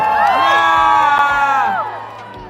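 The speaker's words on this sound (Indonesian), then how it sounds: "Tepuk tangan paling meriah untuk Aisyah Benyo." A lively crowd cheers and whoops with high excited voices, a dense swell of shouting that stays loud before easing off near the end.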